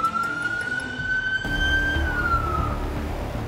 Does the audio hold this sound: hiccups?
no